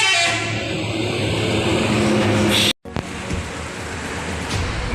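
A horn sounds from a Scania tronton bus pulling in at a busy bus depot, a steady loud toot layered over engine rumble and crowd noise, cutting off briefly before the idling and background din resume.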